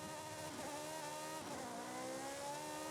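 A Ferrari engine drives in the Forza Horizon 5 racing game, a steady high-revving tone with rising and falling pitch sweeps, loud and continuous with no talking.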